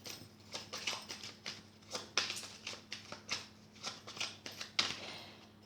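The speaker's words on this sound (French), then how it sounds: "on va faire le tirage en 7 lames avec le tarot" Illuminati tarot cards being shuffled by hand in a steady run of soft riffling bursts, close and fairly quiet, with no talk.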